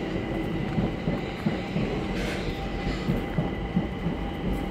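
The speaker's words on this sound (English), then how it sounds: "Another train passing by." A train rolls past at steady speed, with a continuous rumble and rhythmic clicking of wheels over rail joints, at moderate distance in an outdoor garden setting.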